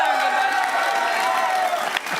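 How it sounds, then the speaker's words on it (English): A crowd applauds and cheers at moderate distance at the Xbox showcase at Gamescom 2019, a dense wash of clapping with a few whoops, no speech over it. "I'm going to ask you for another round of applause"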